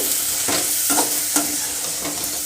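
Capsicum is stirred into a frying pan of gravy, giving a loud, continuous sizzle broken by several rhythmic scrapes of the spoon against the pan.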